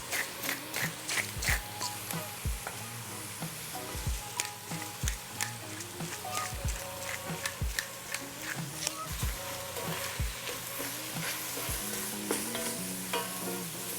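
Food cooks over high heat in a pan for a baked-ziti-style dish, a constant sizzle punctuated by repeated heavy stirring knocks and scrapes at a loose rhythm, close and fairly loud, with no talk.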